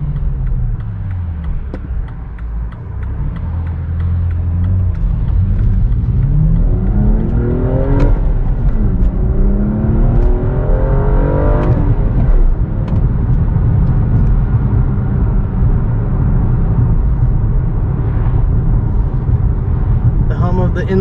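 A 2016 BMW M235i inline six engine accelerating from inside the car, loud rising revs through several gear shifts, each climb in pitch dropping back and building again, with someone talking over the engine.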